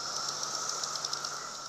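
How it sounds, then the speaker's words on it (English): Male cicadas call in a dense, steady high-pitched buzzing drone with a faint pulsing shimmer, continuous and fairly loud, with no talk over it. "That noise is the male cicadas trying to attract females with mating calls."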